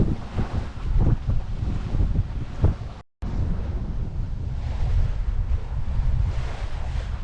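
At sea off the Outer Hebrides, with 15 to 20 knots of wind on a reefed sailboat, wind buffets the microphone in a steady roar over the rush of waves. There is a brief dropout midway, then continuous blustery noise.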